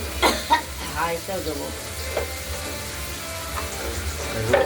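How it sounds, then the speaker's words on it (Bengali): Chopped onion and bay leaf fry lightly in hot oil, giving a soft continuous sizzle with a few sharp clinks of a utensil stirring the pan, under a voice talking nearby. "আমরা হালকা ভেজে নেবো"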